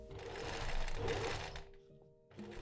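A sewing machine runs in a short burst stitching over boning channel seams of a silk gown, a close, quiet motor whir with fast needle chatter that pauses briefly and restarts.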